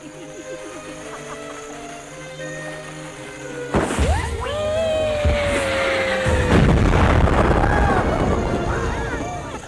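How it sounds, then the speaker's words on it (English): 4th of July fireworks in a movie scene: after a stretch of quiet background tones, a sudden loud boom opens a burst of crackling, whistling rockets and rumbling blasts that continue and swell toward the end. "And they proceed with their 4th of July fireworks."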